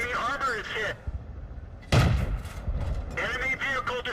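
Tank cannon shots in World of Tanks, sniping from concealment: a heavy thumping gun blast with a rumbling tail stands out between stretches of talk, with someone speaking before and after.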